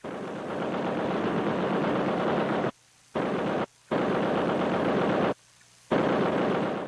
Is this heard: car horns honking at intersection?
no